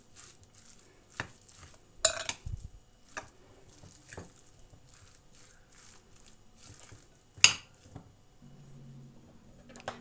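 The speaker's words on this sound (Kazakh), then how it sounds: "Міне жақсылап араластырып қойдық тұзын, бұрышын." Minced meat filling seasoned with salt and pepper is stirred in a bowl for samsa, with soft squishing and occasional sharp clinks of a utensil against the dish, quiet and close.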